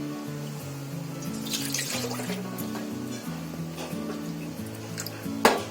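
Water pours from a cup into a pot to make rice flour dough, a steady trickle whose pitch rises as the vessel fills, ending with a small clink.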